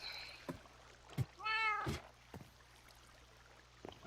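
Cats meow in Minecraft, a few short mewing calls with one longer, clear meow in the middle, heard alone against a quiet game background with soft thuds.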